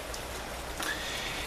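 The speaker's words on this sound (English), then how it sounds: "Listen to the rain, isn't it wonderful?" Rain falls during a drought period in California, a soft, even hiss of drops heard faintly and continuously with no talking.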